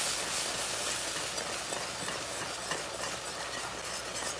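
Salted caramel being whisked in a hot pan, a steady loud hiss and sizzle with faint stirring scrapes running unbroken throughout.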